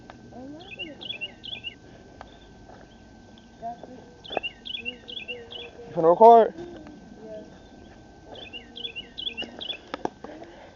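Birds sing and chirp in trees along a snowy trail, repeated short bright phrases in several bursts, while a person speaks briefly and a louder rustling noise rises near the middle.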